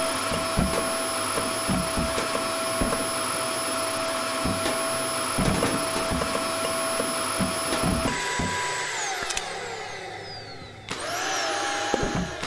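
Steady vacuum cleaner drone running continuously in the video game Kill It With Fire, with a constant high whine and pitch shifts and clicks near the end.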